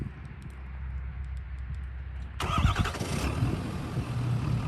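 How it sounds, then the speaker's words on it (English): A 2019 Ford Super Duty pickup engine cranks and fires up partway through, settling into a loud, steady idle rumble after a quiet start. "Well, actually, I can fire it up right now."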